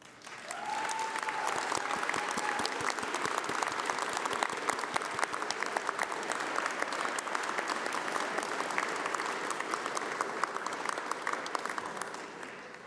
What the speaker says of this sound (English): please stand up as we give you a round of applause